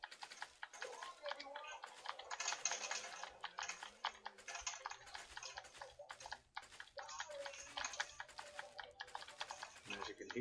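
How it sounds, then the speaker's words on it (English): Rapid computer keyboard typing clatters steadily and close up through a session of the survival game 7 Days to Die, with a voice talking over the keystrokes. "unfortunately you'll have to put up with the keyboard a little while longer"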